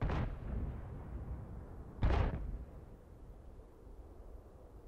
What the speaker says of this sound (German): Ich gebe einen Schuss ab.